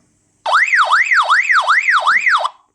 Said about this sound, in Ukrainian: Ось така функція сигналізації, блимає фонарик, Оце червоним і зеленим одночасно блимає сирена.